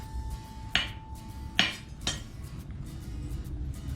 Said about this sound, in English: bring it over to the anvil, and you'd hammer it into the shape that you want